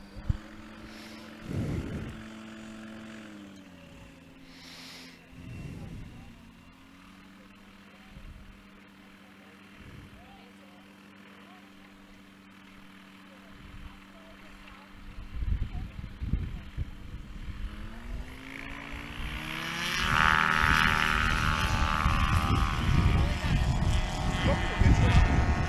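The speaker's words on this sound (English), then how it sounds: "This takeoff is just to simply get airborne to restage themselves for the landing." STOL airplane at a national short takeoff and landing competition in Brainerd, its propeller engine droning and building to a loud roar as it takes off, with a commentator talking over it.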